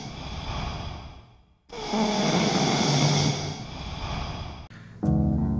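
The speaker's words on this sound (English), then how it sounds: "it's somebody snoring" Amplified snoring on a short track from an album: loud, close, drawn-out snores with a brief quiet gap between breaths, then a sudden tonal sound at the end.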